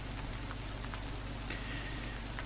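Steady, dense rain falls over a city street in the video game Flowers for Mari, a constant full hiss with no breaks and no voices.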